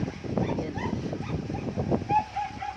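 Several dogs whimper, yip and bark in short bursts close by, with rain in the background.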